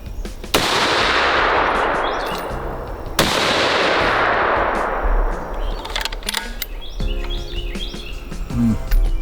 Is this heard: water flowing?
no